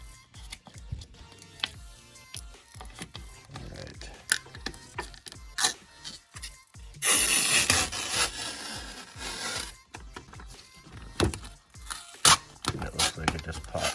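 Protective film peeled off an Arcade1Up Mortal Kombat II control deck, with irregular crackling and rubbing plus a sustained tearing rasp midway, surrounded by handling knocks and clicks nearby.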